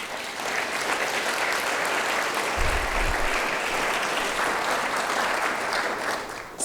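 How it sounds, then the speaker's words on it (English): An audience at a 2017 State of the City address breaks into sustained applause, a loud, steady roar of clapping that carries on for several seconds with no speech. "I think it deserves a round of applause."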